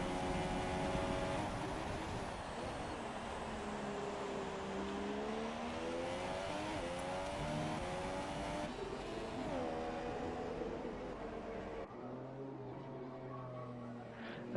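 F1 2017 racing game car on its out lap at the Malaysia circuit, a high-pitched engine whine rising and falling through gear changes, sustained and prominent, then dropping to a lower hum near the end.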